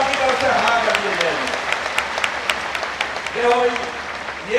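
A large audience at a devotional singing event claps loudly and continuously, a dense wash of applause close and full throughout, with voices and sung or spoken tones rising above it.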